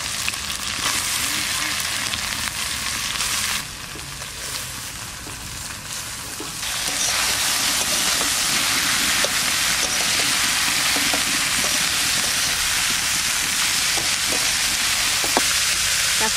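Chopped fresh cabbage fries in a hot pan in a home kitchen, giving a steady, dense sizzle that dips briefly and then swells louder, with a voice speaking at times over it.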